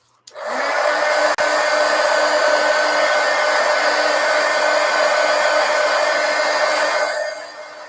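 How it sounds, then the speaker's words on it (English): A heat gun blows hot air onto a gouache botanical painting, a loud steady fan roar with a whining tone that starts abruptly, holds for about seven seconds, then winds down. "let's hit this with the heat gun"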